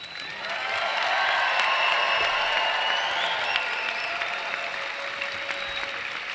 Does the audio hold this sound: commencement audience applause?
yes